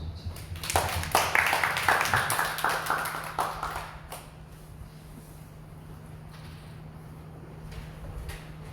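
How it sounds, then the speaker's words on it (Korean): A short burst of scattered hand clapping at a church service swells for a few seconds and then fades, leaving a quiet room with a low hum. "박수."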